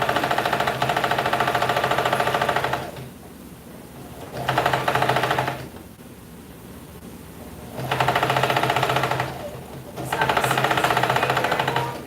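A sewing machine runs in four separate bursts of rapid stitching, each lasting a second or two with short quiet gaps between, close and steady.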